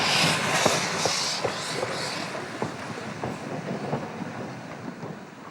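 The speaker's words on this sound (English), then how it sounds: "Number 180 heads off to the station to couple up to its narrow gauge train." Narrow gauge steam locomotive No. 180 pulling away in winter in Austria, a steady rumble with rhythmic wheel clicks and hiss, moderately loud and continuous with no talk.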